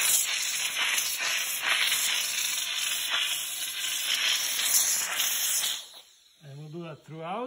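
Steam cleaner blasting grime out of the engine bay of a Mercedes C36 AMG, a loud continuous hiss for about six seconds, then a short gap before a voice speaks.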